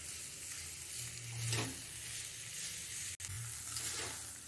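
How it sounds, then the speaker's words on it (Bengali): Chicken mince with tomato sauce, Schezwan sauce and chopped onion is stirred in a pan, giving a steady soft sizzle with a couple of scraping sweeps of the spatula; no voices. "টমেটো সস, শেজওয়ান সস আর পেঁয়াজ কুচিকে চিকেন কিমার সঙ্গে খুব ভালো করে নেড়ে চেড়ে মিশিয়ে নিতে"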